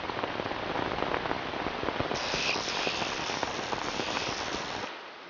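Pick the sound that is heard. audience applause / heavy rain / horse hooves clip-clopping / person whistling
heavy rain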